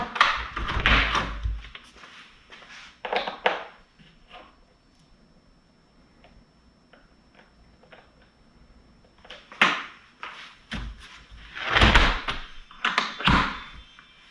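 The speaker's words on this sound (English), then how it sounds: "And there we go, snap shut." Defender security door lock being fitted to a door, with a few loud thunks and snaps in separate bursts, the latch catching and knocking against the door between long quiet gaps.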